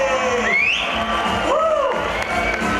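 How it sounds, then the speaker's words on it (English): An audience honoring Rabbi Twerski erupts in loud cheering, with sliding whoops and shouts over a crowd roar. Clapping is not distinct beneath the voices, and the burst is brief. "one more round of applause to Rabbi Dr. Rabbi Twerski!"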